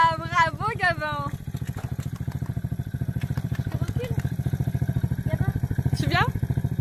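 A child's quad bike idles with a steady low engine rumble throughout, close by, while someone talks over it at the start and again near the end.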